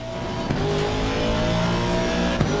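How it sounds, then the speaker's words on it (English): Race car engine in the Assetto Corsa Competizione sim racing game, a loud continuous bassy rumble holding steady with slight rises in pitch, alone without talk. "Whoa, listen to that engine."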